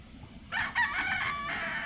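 Gamefowl stag crowing close by on a farm, a single strained cock-a-doodle-doo call lasting over a second against quiet rural background.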